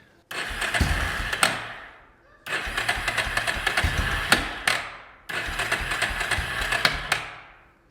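A cheap used four-wheeler ATV with an air leak cranks and fires up three times in a row, each burst a rough, rattling engine roar close by that runs about two seconds before cutting out, with short gaps between attempts.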